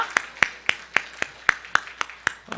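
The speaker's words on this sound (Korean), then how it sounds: "그렇게 행하신 하나님께 우리 한번 영광의 박수 올려드리겠습니다." A congregation claps in slow, even unison during a Korean church worship service, about ten sharp, evenly spaced claps that sound close and moderately loud with no talking over them.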